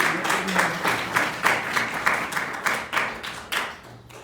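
Audience applause at an award ceremony for a Sharda competition, steady crowd clapping with repeated swells over the whole stretch, fairly loud and close.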